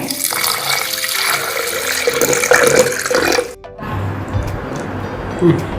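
Water pours in a strong, steady splashing stream for about three seconds, then cuts off, leaving softer background noise.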